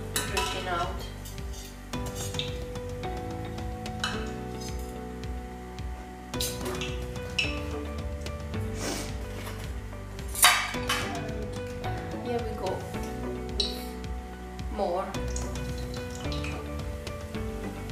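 Crescentine fried bread frying in hot oil in a pan, with metal utensils clinking and scraping as pieces are lifted out and turned, steady sizzle underneath and a voice talking over it.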